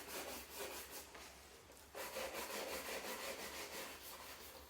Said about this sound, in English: It's all about the action of the brush moving backwards and forwards.